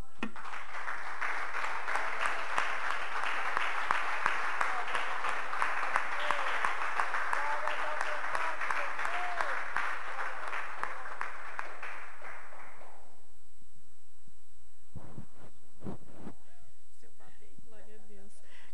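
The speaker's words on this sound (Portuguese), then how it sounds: "Vamos aplaudir a Senhor." A church congregation bursts into sustained applause, many hands clapping together loudly for about twelve seconds before it abruptly stops, followed by a few scattered sharp sounds in the quiet sanctuary.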